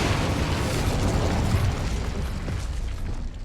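Incendio fire spell cast in Hogwarts Legacy, giving a sustained fiery roar and dense, crackling blast noise of steady loudness, with no speech over it.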